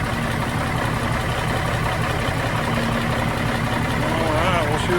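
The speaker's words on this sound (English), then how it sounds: "Idle it down a little bit there." The diesel engine of a 1987 Freightliner wrecker truck idling, a loud, steady low rumble throughout, with faint squeaks near the end and a voice speaking over it.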